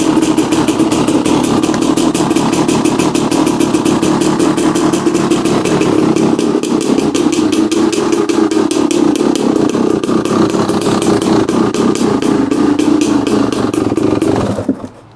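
A 2016 KTM 300 XCW two-stroke dirt bike idles close by with a fast, steady ticking putter that holds loud and even for the whole stretch before cutting off abruptly at the end.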